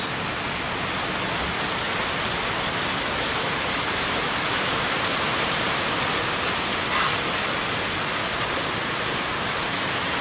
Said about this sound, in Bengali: কি অবস্থা বৃষ্টির।